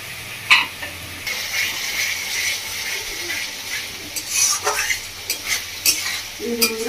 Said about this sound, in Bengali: মশলাটা ফুটে গেছে, ভালো করে নাড়িয়ে কষিয়ে নেব।